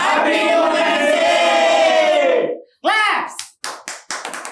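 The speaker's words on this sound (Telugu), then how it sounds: "క్లాప్స్." A group claps and cheers together, first a sustained burst of applause with raised voices, then a few scattered separate claps trailing off.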